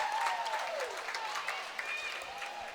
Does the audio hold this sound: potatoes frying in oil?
no